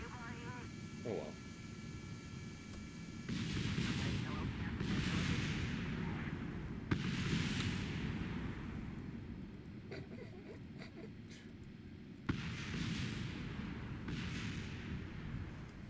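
Rocket explosions in Kerbal Space Program, heavy booming blasts and sustained roaring rumble that surge several times over a steady hum, with a person talking over them.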